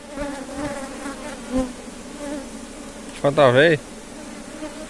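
Bees buzzing around an opened beehive frame, a faint continuous drone under a voice, with a brief louder buzz as one insect passes near.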